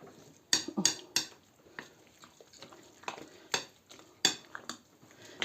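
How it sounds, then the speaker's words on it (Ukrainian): A utensil stirs grated zucchini pancake batter in a bowl, making irregular sharp clinks and scraping knocks against the sides at close range, with no talking. "О, гарно розмішуємо."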